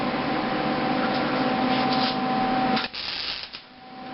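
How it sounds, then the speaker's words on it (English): A six-year-old welds a metal Christmas tree ornament, making a steady, close crackling hiss over a faint constant hum. The hiss cuts out briefly near the end, then resumes more unevenly, with no talking. "Go ahead, weld."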